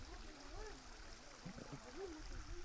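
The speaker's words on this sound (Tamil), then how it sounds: "தண்ணி வந்து லைட்டாக தான் வருதுங்க" Light trickle of water from a forest spring, a soft steady flow with faint gurgles, quiet and close, with bits of voice nearby.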